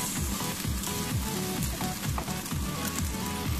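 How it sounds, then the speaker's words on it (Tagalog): Kimchi fried rice fries in a pan, with a loud continuous sizzle and repeated scraping stir strokes in a steady rhythm, close up, with no talking. "hahaluin lang natin ito at lutuin lang natin hanggang sa gumanda na ang kulay ng ating fried rice"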